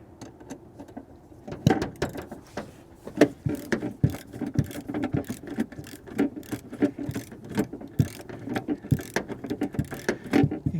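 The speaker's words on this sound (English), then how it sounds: "Get my wrench, switch to a 10mm socket." Ratchet wrench with a 10mm socket and long extension loosening nuts on a GM OBS Chevy truck's windshield wiper transmission, irregular bursts of close, sharp clicking with brief pauses between strokes.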